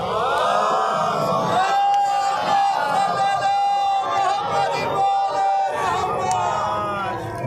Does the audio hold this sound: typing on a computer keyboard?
no